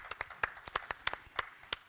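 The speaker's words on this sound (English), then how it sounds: "Applause." Sparse, scattered hand claps from an audience at a startup fair session on business angels, a handful of separate claps spread irregularly over two seconds, moderately close and fairly quiet, with no talking.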